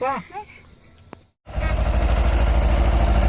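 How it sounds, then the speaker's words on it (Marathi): A farm tractor for sowing groundnuts pulls up, its engine starting loud and steady after brief talk and a short silence, then a continuous close rumbling drone. "पेरणीसाठी ट्रॅक्टर आलेला आहे"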